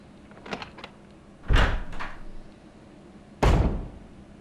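In Resident Evil HD, a lockpicked door opens: a few light clicks of the lock, then two heavy wooden thuds about two seconds apart, loud and close.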